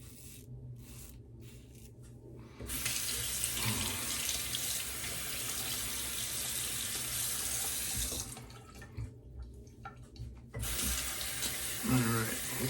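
Tap water runs steadily into a bathroom sink as someone rinses their face before a Wilkinson Sword shave, a broadband hiss lasting several seconds with brief pauses and splashing near the end.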